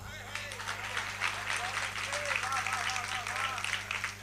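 An audience at a large all-India Hindi poetry gathering (kavi sammelan) in Jawad claps while a voice keeps speaking over the PA. The applause is fairly soft and spread out, sitting under the talk throughout.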